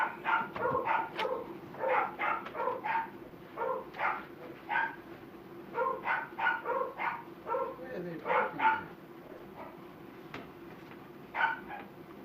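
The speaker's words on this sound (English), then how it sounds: "Dogs." Repeated dog barks in quick bursts, fairly close, with a person talking over them and a steady low hum underneath.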